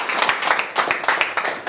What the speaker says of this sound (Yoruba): kábíyèsí ẹ bá ní pàtẹ́wọ́ fún wọn